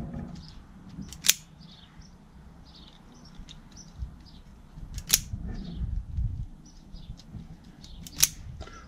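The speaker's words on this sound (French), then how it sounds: "je vais couper mes fils" Electrical wires for a seven-pin car trailer socket being cut with a tool, three sharp, crisp snips spaced a few seconds apart, close and clear over quiet background handling noise.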